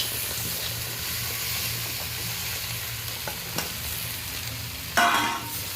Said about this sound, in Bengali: আলু বেগুনের সাথে আরও 2 মিনিট আমি এগুলোকে ভালো করে কষিয়ে নেব